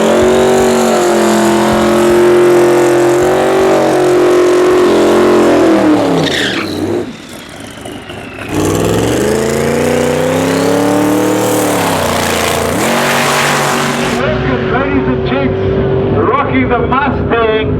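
Drag racing Mustang with a fiberglass body and carbon Kevlar front end, loud engine roaring and revving at full throttle, pitch climbing through gear changes, a short dip, then another hard run; voices talk over it.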